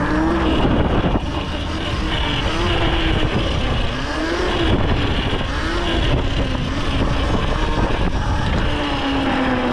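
Motorcycle climbing a hill, a continuous loud engine drone with wavering pitch under heavy wind buffeting on the microphone, steady throughout without pauses.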